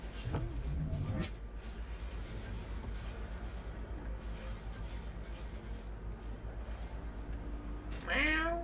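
A cat meows in Cyberpunk 2077, with short chirping calls near the start and again at the end over a low, steady in-game hum.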